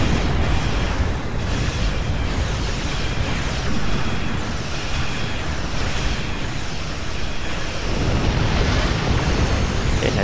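A starship blows apart in the space combat of Star Trek Online, a loud, sustained roaring blast with rumbling low end that fills the whole stretch without letting up.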